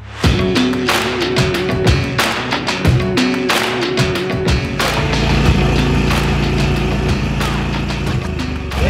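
A lawn mower cutting grass runs loud and close throughout, its engine droning steadily with repeated knocks and clattering thumps as it works across the lawn.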